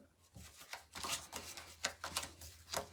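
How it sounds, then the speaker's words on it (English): A deck of cards is shuffled in several quick riffling bursts of papery flutter, faint and close, with no voices. "I'm just beginning to shuffle"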